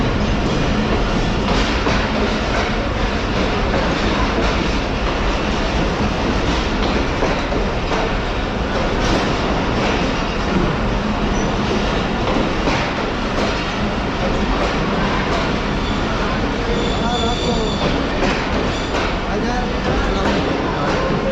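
Karachi Express passenger train running on rails in winter, a loud, continuous rumble with rhythmic clickety-clack of wheels over rail joints and occasional squeal, voices talking intermittently over the roar from inside the coach.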